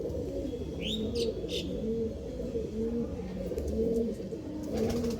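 Several pigeons coo in steady overlapping low calls throughout, close and continuous, with a few brief higher chirps from other birds early on.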